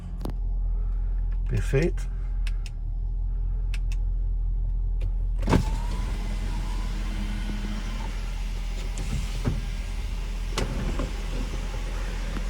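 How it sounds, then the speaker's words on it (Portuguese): A Ford Focus with an automatic transmission starts its engine for the first time that day with a sharp crank and catch, then settles into a steady low idle hum, with a brief spoken word and small cabin clicks. "Tá aí a primeira partida do dia."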